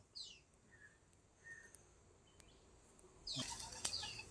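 A released pigeon bursts into flight with a flurry of close wingbeats near the end, after soft chirps and small movements in a quiet setting.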